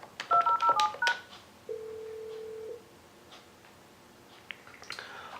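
A Yealink 42S desk phone gives a quick run of short keypad tones, then one sustained tone lasting about a second, followed by soft clicks and a few faint later beeps, with no talking.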